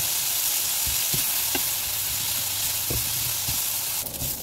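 Squid ink pasta fries in a pan with garlic and oil, giving a steady close sizzle and hiss with a few soft clicks and scrapes of stirring throughout.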